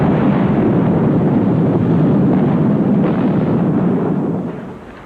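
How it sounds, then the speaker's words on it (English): Miniature depth charge explosions filmed in a large water tank give a loud, sustained, deep rumbling roar that fills the whole stretch and then fades away at the very end. "A large water tank with a clear glass camera window was used to film tiny depth charge explosions."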